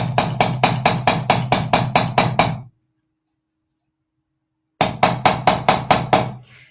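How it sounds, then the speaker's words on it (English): A small nylon hammer strikes a metal jewelry bangle in quick, even taps, about a dozen blows in a steady run, then a pause of silence before another burst of similar rapid taps, close and clear with no talking. "with this adorable little nylon hammer here"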